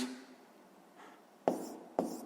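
A pen touches down on paper twice, two short close taps with brief scratching after a near-silent stretch.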